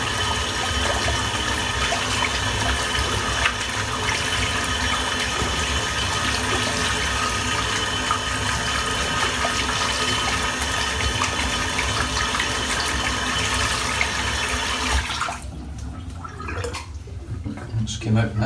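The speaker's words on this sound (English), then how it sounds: "I'm just going to rinse this brush out." Running tap water splashes steadily as a lather-filled shaving brush is rinsed underneath it. The water stays close and continuous, then cuts off near the end, followed by a few small drips and handling sounds.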